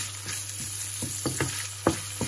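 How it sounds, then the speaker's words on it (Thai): Mackerel meat stir-fries in a hot pan with a constant close sizzle, broken by quick scraping strokes of a spatula against the pan. "ใส่เนื้อปลาทูลงไปเลยนะคะ ผัด ให้สุก"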